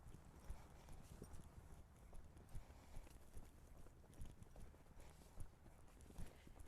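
A horse trots with a steady rhythm of faint hoofbeats, muffled under a broad wash of background noise and heard from a distance.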